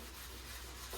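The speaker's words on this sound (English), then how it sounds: "I like to use steel wool to clean" Steel wool rubs over an oak cabinet surface, giving a soft continuous scratchy hiss that stays faint and even for a moment.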